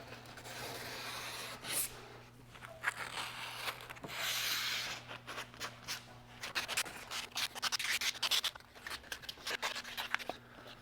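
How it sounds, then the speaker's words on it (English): Close, repeated scratchy rubbing strokes of sandpaper taking the sharp edge off wooden van shelves, uneven in rhythm, over a faint steady hum. "make sure you use the sandpaper at just a slight angle and sand just to take off that"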